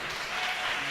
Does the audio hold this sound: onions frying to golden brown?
no